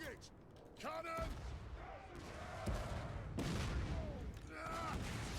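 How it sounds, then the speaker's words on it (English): Cannon volleys in the fantasy strategy game Dwarfs, several booming shots spread across the span alongside mechanical clanks and voice-like battle sounds, moderately loud within the game mix. "Select target! Cannon!"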